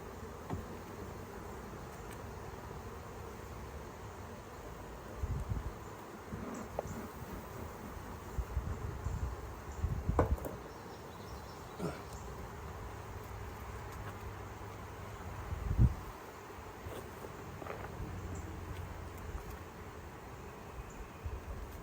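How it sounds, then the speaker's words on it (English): Bees in a beehive super give off a steady, low insect buzz that goes on throughout, with a few thumps and knocks over it and no talking. "I don't know if y'all can hear the bees in that super. They're loud."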